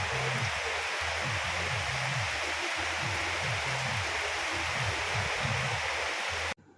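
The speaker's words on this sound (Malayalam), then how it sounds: "പുറത്ത് നല്ല മഴയാണ്." Heavy rain pours outside as a thick, unbroken hiss, with a low rhythmic tonal sound running beneath it, until everything cuts off abruptly at the end.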